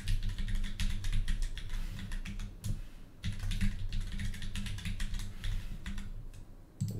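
Continuous, fairly loud typing on a computer keyboard while entering a password: rapid clattering keystrokes in steady bursts with a brief pause midway, close up and with no talking.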